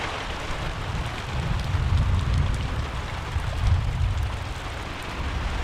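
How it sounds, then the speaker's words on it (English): A long, heavy rainstorm in Cameroon pours onto already flooded ground, making a dense, steady roar of rain with a low rumble beneath it and no voices. "This is the longest rainstorm we've had here so far."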